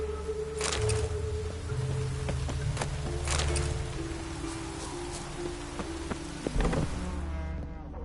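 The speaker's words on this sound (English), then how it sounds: "Looks like rain." Steady rain in The Witcher 3: Wild Hunt hisses and patters with no break, and a low hum runs beneath it while occasional sharper drips and taps stand out.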